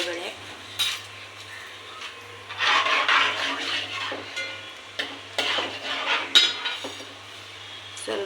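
Mustard seeds, cumin and chana dal fry in hot oil as a tempering for vegetable upma, a low sizzle broken by loud metal spoon clinks and scrapes against the pan, with no talking.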